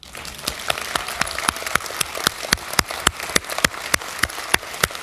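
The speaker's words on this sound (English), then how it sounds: "You may applaud politely." Polite, scattered applause from a keynote audience at a web conference: sparse individual claps, sharp and distinct, popping irregularly at moderate distance for about five seconds with no voices over them.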